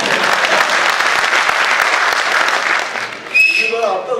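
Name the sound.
audience applause at a rally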